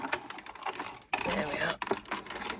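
A die-cutting machine runs a cutting die through paper in a crafting setting, producing a faint rapid mechanical rattle and clatter over a couple of seconds.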